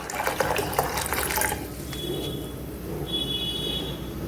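Water poured into a cooking pan while making a quick Kannada horse gram (hurali) saaru, a close splashing, trickling pour that is busiest in the first second and a half and then settles into a softer steady flow.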